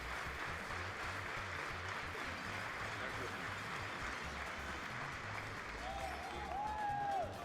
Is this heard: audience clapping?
yes